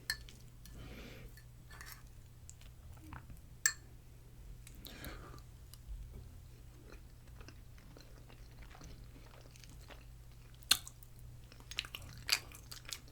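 Spicy potato fries mixed with cheese being chewed close up at a home-cooked meal, soft irregular chewing and occasional clicks of cutlery over a low steady hum.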